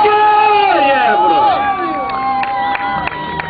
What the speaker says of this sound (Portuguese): E uma grande salva de palmas para o...